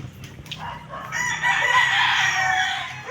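Roosters crow at a chicken farm, one long, loud crow rising over steady background farm noise, with other birds faintly audible.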